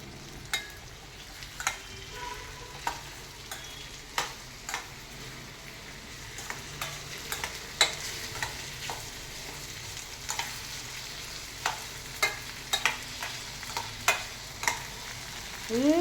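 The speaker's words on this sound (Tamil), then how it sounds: "ஸ்டவ்வை சிம்மில் வச்சுட்டு நல்லா வதக்கிக்கணும்" Food, including raw mango, being sautéed in a pan over a low stove flame, a soft steady sizzle broken by sharp spatula clicks and taps against the pan, no talk.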